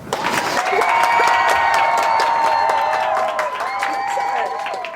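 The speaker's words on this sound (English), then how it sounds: "let's give them a round of applause" Studio audience applause with some cheering rises quickly and holds at a steady, fairly loud level for about five seconds, a dense wash of clapping with scattered whoops layered on top.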